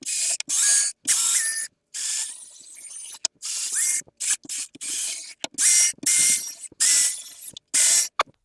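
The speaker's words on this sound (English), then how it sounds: "I'm going to put the drill into low speed, high torque" A cordless drill on low speed with a scrub brush works a foaming citrus cleaner into carpet, a loud rough whirring in repeated short bursts with brief pauses between passes.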